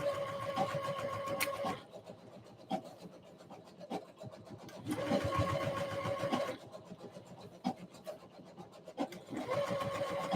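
A sewing machine stitches Etsy orders in a home studio, running in bursts of rapid mechanical rattling separated by brief quieter pauses.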